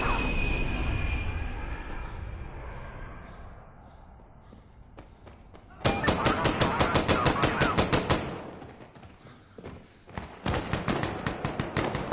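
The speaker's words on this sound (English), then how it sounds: "Strafe inbound, going hot." An aircraft gun run strafes targets in a video game, with rapid machine-gun bursts in long rattling strings after a fading engine rumble. The firing is loud and close, with a brief pause between two sustained volleys.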